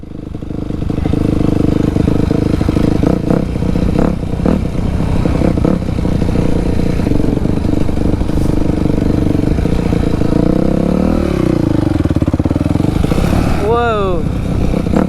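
A dirt bike rides in a backyard. Its engine drones loud and close throughout, with rough revving, rattling clatter and a rising whine near the end, while a voice speaks under the noise.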